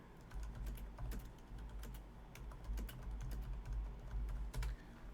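Keys clatter on a computer keyboard as a chat message is typed, a close, steady patter of quick clicks over a low background hum.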